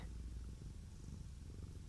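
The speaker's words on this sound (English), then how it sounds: "He's purring." A cat named Simba purrs steadily and close, a continuous low rumbling with soft rhythmic pulses and no voices over it.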